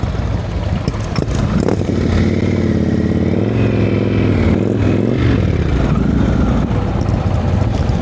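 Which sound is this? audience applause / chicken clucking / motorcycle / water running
motorcycle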